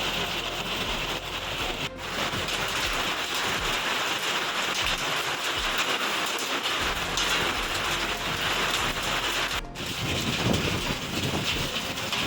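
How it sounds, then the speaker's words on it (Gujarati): Heavy downpour during unseasonal weather in Gujarat, with hail also reported: a dense, continuous hiss of rain pounding surfaces fills the whole stretch, loud and steady, with no voices. "અનેક જિલ્લાઓની અંદર ધોધમાર વરસાદ પડ્યો"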